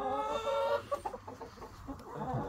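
Backyard laying hens cluck in a loose, overlapping chorus, close and fairly loud, during their seasonal break from laying.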